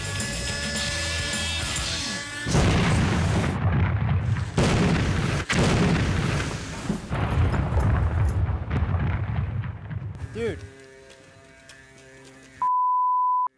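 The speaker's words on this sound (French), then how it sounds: "J'ai entendu une explosion." Staged helicopter crash explosion for a prank show: a loud, dense rumbling blast with booming bursts sustained for about ten seconds, then fading, followed by a steady electronic beep tone near the end.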